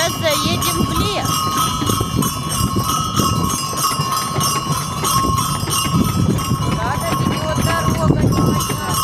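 Horse hooves clop steadily at a walking pace under constant background noise while riding into a forest near a wooden hotel on a mountain at a resort.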